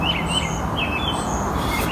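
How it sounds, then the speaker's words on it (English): Birds chirp and tweet outdoors in a steady chorus of short, high calls over constant background noise, with no talking. "listening to the birds chirping"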